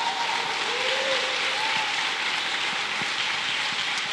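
Applause from a church congregation during an evening service, a steady, even wash of clapping held at the same level throughout, with a voice faintly present underneath.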